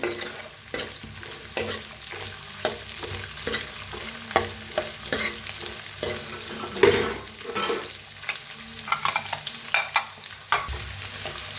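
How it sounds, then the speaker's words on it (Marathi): Chopped onion, green chilli and capsicum frying and being stirred in a pan at home, with a steady sizzle broken by frequent scraping and clattering stirs, close and fairly loud, and no talking. "आता ह्याच्यात टाकूया कांदा तिच्यातच मिरची टाकूया शिमला मिरची छान असं भाजूया"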